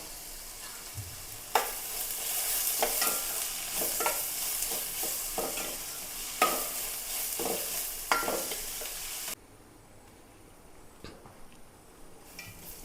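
Sliced onions sizzle and soften in a hot pan during beef curry preparation, a steady close frying hiss broken by a few spatula stirs and scrapes, then quieter simmering in the final seconds.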